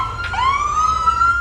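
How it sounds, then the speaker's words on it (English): A police car siren wails in the street outside a convenience store during coronavirus social-distancing enforcement. The single rising tone is loud and close and is heard alone. "As the sirens blared, the crowd began to break up."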